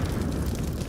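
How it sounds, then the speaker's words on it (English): A Counter-Strike grenade explosion rolls as a dense, steady low rumble with a rough crackling texture, heard alone without any speech. "Just getting battered up on these passive grenades."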